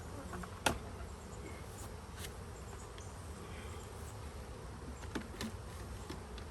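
Honey bees buzz in a dense, steady drone while a beekeeper clears them from hive boxes in an outdoor holding yard during Formic Pro removal, with a few brief knocks over the constant hum.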